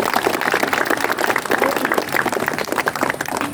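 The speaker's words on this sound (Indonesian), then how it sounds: "tepuk tangan." Applause from a seated student audience at a school opening ceremony, a dense, steady wash of many hands clapping close by for the whole stretch, loud and continuous without a break.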